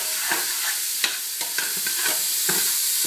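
A spoon stirs onions frying in rendered sausage fat for cornbread stuffing, with a soft sizzle broken by several distinct scraping and clicking strokes against the pan, close and unhurried.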